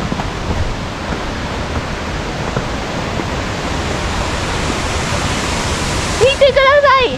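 Abe Great Falls, a large mountain waterfall, roars as a dense, steady wash of water, near and loud throughout, with a voice breaking in briefly at the end.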